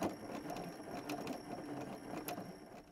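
Close sewing-machine whir as a raglan sleeve seam is double-stitched toward the raw edge, a steady, fairly quiet mechanical hum with fine rapid ticking throughout.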